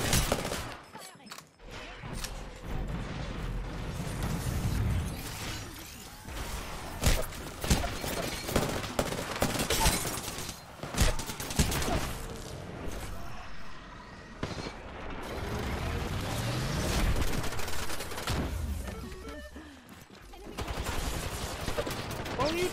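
Rapid video game gunfire with bursts and bangs, loud and dense across the clip, mixed with explosive thuds and other game effects; a voice can be heard at times beneath the shooting.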